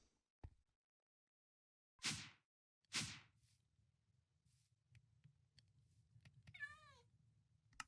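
A Minecraft cat gives one wavering meow near the end, after two loud whooshing game sounds and soft clicks over a low background rumble.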